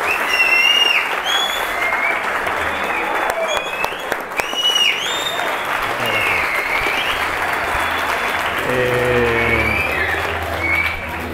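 Audience applause at a book presentation for a Nadal Prize-winning crime novel, sustained and fairly loud clapping throughout, with a voice speaking over it toward the end.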